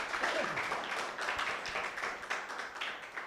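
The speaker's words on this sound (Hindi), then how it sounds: "जोरदार ताली प्रभु के लिए।" A church congregation claps and applauds enthusiastically during a worship service, with scattered hand claps forming a dense, moderately distant burst of applause and faint crowd noise.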